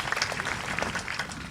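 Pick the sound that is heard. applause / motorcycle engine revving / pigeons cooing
applause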